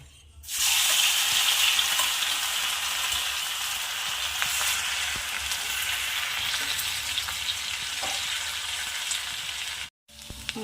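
A coarsely pounded paste of green chillies, garlic and cumin hits hot oil with a loud, sustained sizzle and crackle that holds steady for about nine seconds, then cuts out briefly near the end before resuming.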